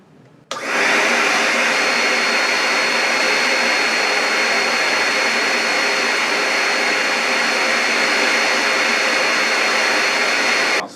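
Camvac dust extractor vacuuming fine dust and shavings off a workshop floor, switching on sharply and holding a loud, steady roaring whoosh close by for about ten seconds before cutting off, with no talking.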